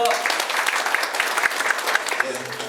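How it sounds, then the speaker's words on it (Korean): Audience applause at an agricultural training session on organic garlic growing, crisp individual claps audible in a short burst while a voice continues over it. "박수 좀 부탁드리세요."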